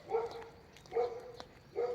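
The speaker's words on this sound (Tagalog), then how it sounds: "may aso na naman" A dog barks three times at steady intervals, moderately close, with faint background noise between barks.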